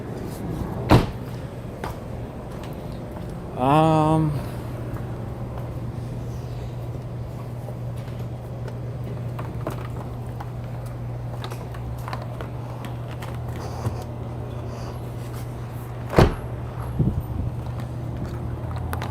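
Door of a BMW F20 hatchback being shut during an electrical module repair, with sharp thuds at the start and again near the end. A brief rising electronic warble and a steady low hum run between them.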